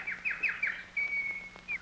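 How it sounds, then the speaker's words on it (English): Birds chirp overhead in a quick run of bright whistled tweets followed by a longer, steadier whistled note, fairly close and clear, with no talk. "It's the birds up there making noise"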